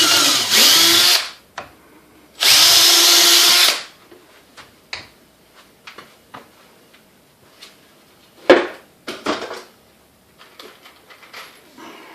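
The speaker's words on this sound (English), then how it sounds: "Put a couple of holes, pre-drill it." Two sustained bursts of a power drill whirring close up, pre-drilling holes in cabinet wood, each about a second long, followed by scattered light knocks and handling clatter.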